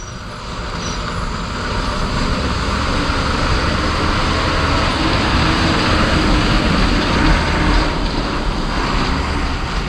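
A state transport bus engine rumbles loudly and continuously from inside the vehicle, with road noise swelling slightly midway.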